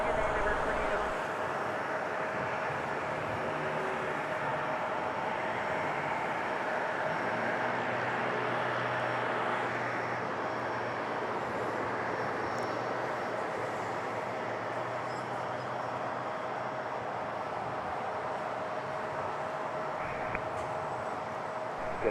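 Delta Airbus A321-200 airliner, seven years old, taking off at LaGuardia in New York, a steady distant jet roar building across the whole stretch with faint radio chatter and talk underneath.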